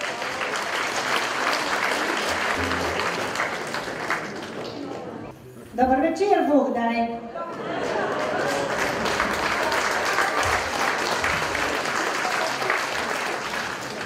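An audience at the Iz srca za srce 2016 concert breaks into loud, sustained applause, then briefly quiets while someone speaks a short greeting, before the clapping resumes and carries on to the end.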